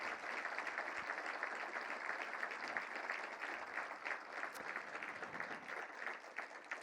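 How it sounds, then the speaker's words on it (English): An audience gives a sustained round of applause for the 2025 Rose Court, with steady, dense crowd clapping that is fairly faint and distant. "please help me give them another huge round of applause"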